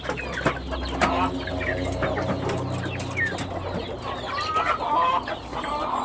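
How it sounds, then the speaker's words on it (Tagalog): Backyard chickens cluck and chatter at feeding time, a dense, overlapping flock of close calls with scattered sharper squawks and pecking sounds, steady throughout with no talking. "Ito mga chickens mga idol."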